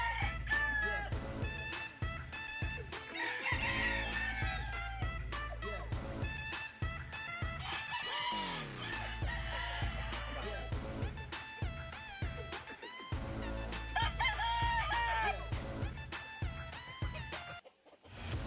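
Many chickens clucking and roosters crowing repeatedly in a backyard in the rural Philippines, loud and close, a busy overlapping chorus of fowl that includes fighting cocks.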